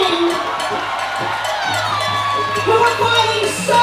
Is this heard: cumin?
no